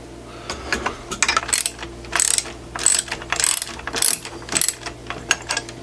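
A clamp on a CNC router's wooden gear train is turned around, giving a run of sharp ratcheting clicks in even bursts, close up and without talk.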